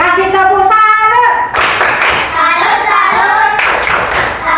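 Schoolchildren in a classroom clapping for a group that has just presented, bursts of many small hands overlapping with brief sung or spoken voices between them.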